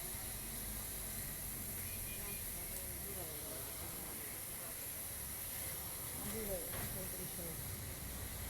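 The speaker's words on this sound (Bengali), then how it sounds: "কত সুন্দর করে বুন্দিয়া ভাজতেছে" Bundiya sweets sizzle as they fry in hot oil, a faint continuous hiss with crackling, while voices talk quietly nearby.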